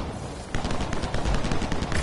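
Rapid gunfire in the Anthem video game, aimed at enemy turrets: a dense, loud volley of shots that starts abruptly and keeps rattling without pause, with no talking over it.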